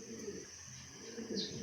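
Soft cooing from a racing pigeon at a champion loft, low murmuring notes repeating under steady background noise, close but faint.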